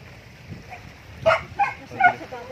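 A dog on an island trek lets out a few short yips and whimpering barks, moderately close, spaced over a couple of seconds against low outdoor background noise.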